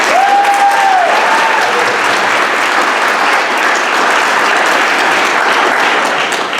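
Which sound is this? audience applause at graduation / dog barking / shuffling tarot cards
audience applause at graduation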